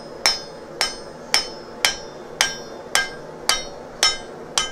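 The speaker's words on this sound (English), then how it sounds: "I'm actually going to tilt it diagonally and hit on the diagonals to round it out" Steel is struck with a hammer against an anvil to round it out, nine sharp ringing blows at an even steady pace, each with a brief metallic decay, close and alone.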